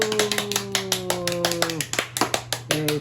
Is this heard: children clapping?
yes